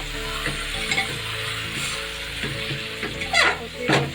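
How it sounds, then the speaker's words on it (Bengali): Mutton pieces sautéing in spice masala in a pan, a constant close sizzle with repeated scraping stir strokes, louder toward the end. "মশলাটা কিন্তু আমার একদম কষানো হয়ে গেছে হালকা কষিয়ে নিয়েছি আর এটা আমি মাটনটা দিয়ে দিই"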